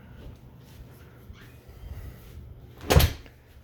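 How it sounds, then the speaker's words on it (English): Louvered windows in an old cottage room being opened, a few light clicks and rattles followed by one sharp clack of the slats near the end, close by with no talking. "You can open these louvers."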